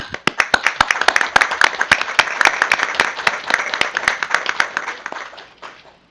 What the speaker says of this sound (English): If we give you all a round of applause.